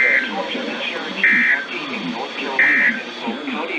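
Repeated buzzing alert tone from a NOAA Weather Radio weekly test, two loud steady bursts sounding over a background of continuous broadcast voice.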